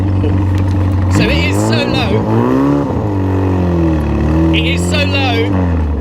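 A straight-piped 1960s Austin Healey hot rod engine drones steadily while driving, its pitch rising and falling with the throttle, with someone talking over it throughout.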